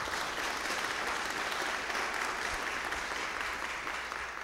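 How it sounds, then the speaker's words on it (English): Sustained applause from an audience at a speech, a steady, even wash of many hands clapping, heard from a distance and fairly soft throughout. "she deserves applause"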